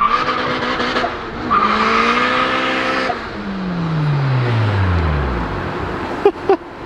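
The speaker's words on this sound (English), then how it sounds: "He wanted a big celebratory burnout smoke show, and he got grip." Car attempting a burnout that grips instead of spinning: a loud, close engine revs up with rising tone, then the pitch falls as it bogs down, ending with a couple of sharp knocks.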